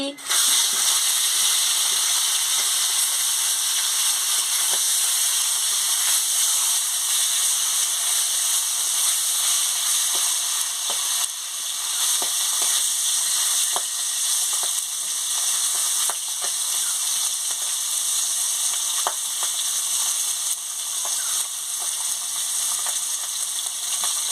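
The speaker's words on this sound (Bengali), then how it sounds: "এবারে তেল গরম হয়ে গেছে আমি মাছটা দিয়ে দিচ্ছি" Magur catfish sizzles loudly in hot oil, a dense continuous crackle with scattered pops that holds close and steady throughout.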